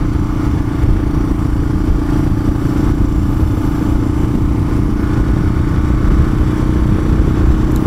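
A motorcycle engine runs loud and close while the rider rolls off the throttle, pulls the clutch and shifts up through the gears, a continuous throaty drone with small shifts in pitch.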